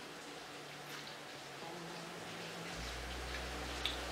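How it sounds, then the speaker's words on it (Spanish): Steady, dense hiss of heavy rain pouring down, with a few faint ticks of drops against a surface and a low rumble underneath. "Está lloviendo a cántaros."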